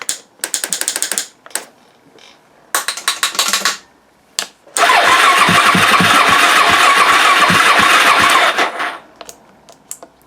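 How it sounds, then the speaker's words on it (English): Suzuki DRZ400SM motorcycle with a suspected starter motor fault: bursts of rapid clicking cranking, then a loud sustained starter whir lasting about four seconds before cutting off, close up. "Clicky, clicky, clicky! I think it's the start motor."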